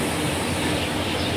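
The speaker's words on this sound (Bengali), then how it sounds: "ট্রেন লামডিং ছেড়ে পরবর্তী গন্তব্য মাইবাংয়ের উদ্দেশ্যে রওনা হল" A train pulls away from Lumding station in Assam, bound for Maibang, giving a steady, loud broadband rumble of rolling wagons with no voices over it.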